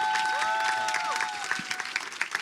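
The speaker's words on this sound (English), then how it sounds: "Big round of applause for Oxford." Audience applause at the Earthmovers 2018 gathering for the Oxford group: a steady wash of clapping for about two seconds, with a faint tonal whine and some voices mixed in, thinning toward the end.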